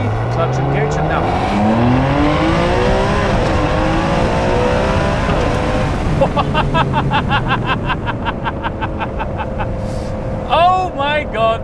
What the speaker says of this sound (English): Incredible, incredible sound, fantastic symphony of this V12